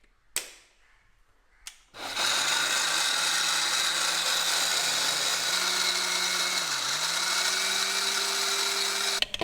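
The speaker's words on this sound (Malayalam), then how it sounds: "അരി അരച്ചെടുക്കാം. നമുക്ക് ഇതിലാണ് കേട്ടോ അരിയെല്ലാം അരച്ചെടുക്കേണ്ടത്." An Agaro mixer grinder starts with a couple of short pulses, then whirs steadily and loudly while grinding rice. Its motor pitch dips and shifts slightly as the load changes, before it stops abruptly.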